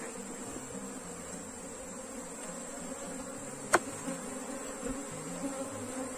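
A honeybee swarm hums with a steady, faint buzz during hive work as the colony is split, with a brief sharp click partway through.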